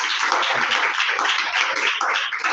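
A church congregation bursts into loud, dense applause, many hands clapping together in a steady roar from start to finish with no talking.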